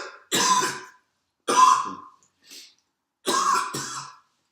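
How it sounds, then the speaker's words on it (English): Several harsh coughs, close and loud, in separated bursts with short pauses between, the last a quick double cough. "Needed both hands for that cough, apparently."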